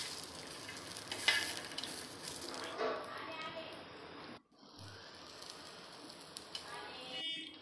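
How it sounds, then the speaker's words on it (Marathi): Green chillies roasting in a pan for Maharashtrian thecha, a steady sizzle with occasional stirring scrapes and light clinks, close and moderately loud, with a brief drop near the middle. "ते पण छान लालसर खरपूस भाजून घ्यायचेत।"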